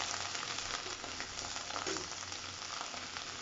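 Onion paste and tomato paste frying in a pan, a dense continuous sizzle with small crackling pops, close and fairly quiet, with no talking.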